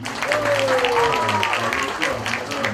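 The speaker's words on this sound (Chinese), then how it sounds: "先给我们最漂亮跟最帅的主持人掌声一下吧" Audience applause for the hosts at a company quarterly meeting and annual awards ceremony, a dense, steady patter of clapping filling the room for about three seconds, with a voice or sustained tone sounding over it.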